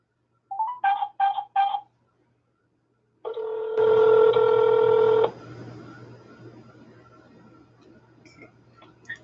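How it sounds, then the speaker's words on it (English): Touch-tone dialing beeps from a phone calling app, three short bursts, then a steady loud ringback tone, which fades into faint background hiss. "I would like to use my phone application to make this phone call."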